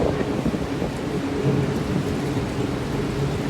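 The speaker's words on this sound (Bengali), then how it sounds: "এই বৃষ্টি হয়ে গেছে।" Heavy rain pours down steadily during a thunderstorm, with low rumbling thunder under a dense hiss of falling drops that holds loud and continuous throughout.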